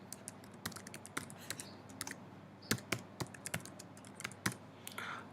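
Close, quick keystrokes clatter on a computer keyboard as a username and password are typed, irregular sharp taps over about five seconds with no voices.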